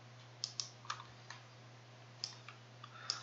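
A handful of sharp, faint mouse clicks on a software button, scattered irregularly over a low steady electrical hum, with no talking.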